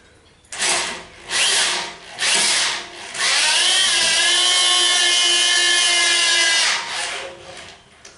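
A power drill spinning a welded metal rod whirs in three short bursts, then runs steadily for several seconds with a grinding, rubbing edge before winding down. No voices.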